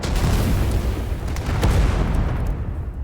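Cannon fire in the Genshin Impact video game sets off a heavy, rumbling explosion that stays loud and dense for a few seconds, with scattered sharp pops over a deep boom before it thins out.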